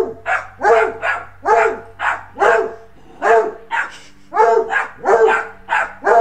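A two-legged dog barking loudly and close, a steady series of about a dozen sharp barks in even rhythm, alone without talk.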